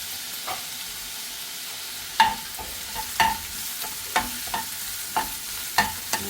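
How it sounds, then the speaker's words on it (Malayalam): Chopped onions and small shallots frying in oil in a pan for a chicken roll masala, with a steady sizzle broken by repeated scrapes and stirs of a spoon, close and fairly loud. "പിന്നെ കളർ മാറാൻ വേണ്ടി ഈ സവാള ഇത് എത്ര മൂത്ത് വന്നാൽ മതി"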